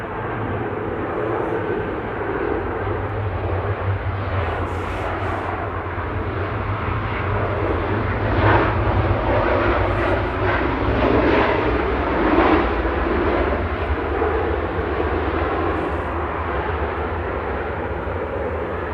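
Boeing 737-800 airliner arriving from Lanzarote at Manchester Airport, a loud, steady jet engine roar that holds throughout, swelling slightly mid-pass with rumbling low end.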